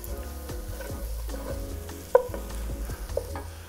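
Flour cooks in chorizo sausage fat with a soft, close sizzle, while a utensil scrapes the pan in repeated stirring strokes, one sharper clink standing out midway.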